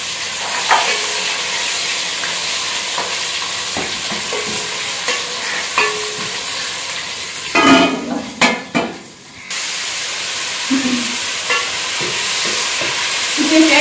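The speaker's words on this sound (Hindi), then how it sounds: "इसके साथ ही अदरक लहसुन का पेस्ट इसमें डाल देंगे।" Ginger garlic paste and whole garam masala fry in a pan for an aloo palak dish, with a continuous close sizzle and hiss under intermittent stirring scrapes and a louder clatter midway.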